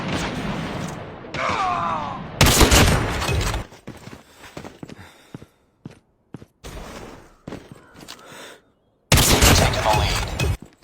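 Sniper rifle shots in the mobile shooter Call of Duty Mobile crack out as two sharp, loud bursts several seconds apart, separated by quieter game effects, scattered clicks and brief menu-like sounds.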